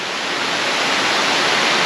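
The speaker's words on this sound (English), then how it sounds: "quite possibly one of the most beautiful waterfalls we've ever seen" A waterfall on Sumba Island, Indonesia, roars as a loud, unbroken rush of white noise, close and steady throughout with no voices.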